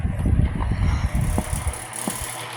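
A 1980s aqua blue Lasko 9-inch table fan runs close by with a steady low whoosh of moving air, its loose grill rattling in uneven clicks and buzzes over the roar.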